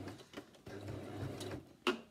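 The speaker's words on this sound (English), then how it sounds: "And then sew running stitch again, but I go up twice" A small sewing machine runs a running stitch through a fabric face mask, with a brief, quiet mechanical whir of about a second and a half, then a sharp click as it stops.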